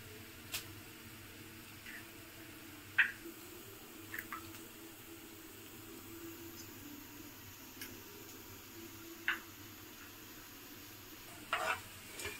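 Onions frying in a pan for egg curry, a faint low sizzle with a few sparse clicks and scrapes of stirring scattered across the stretch.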